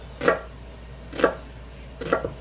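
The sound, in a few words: knife cutting an onion into slices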